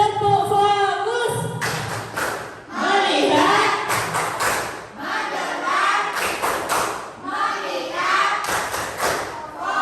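Class 7B students clap a rhythmic focus pattern in their classroom. Sharp group claps land in bursts between short unison chanted words, with loud thuds and a steady beat.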